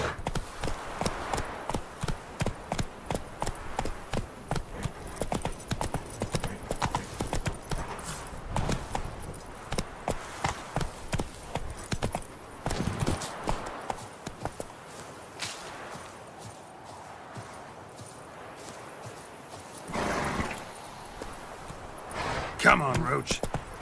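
Hoofbeats of the horse Roach in The Witcher 3 video game, a steady repeating clip-clop of hooves at a brisk pace throughout, with a voice speaking over it.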